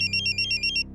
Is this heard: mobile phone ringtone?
yes